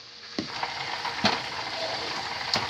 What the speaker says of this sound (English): when you're deep frying, you want to make sure that the chicken is actually getting cooked and fried